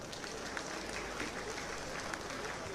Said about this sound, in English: if you are proud of your queen, your wife, please, the men, clap for them one more time